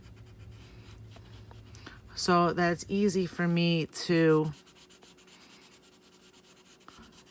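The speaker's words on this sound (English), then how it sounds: "Just draw a curved line and color it in the direction of the oval." A pencil colors on paper in steady, scratchy back-and-forth strokes throughout, with a person talking over the middle part.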